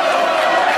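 Wrestling crowd at a CTWE heavyweight championship event chanting at a wrestler named Slyck, a loud, dense mass of voices sustained through a brief moment.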